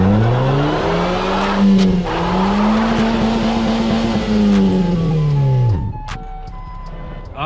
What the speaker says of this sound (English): We're gonna do a reverse drop burnout for our final trick here.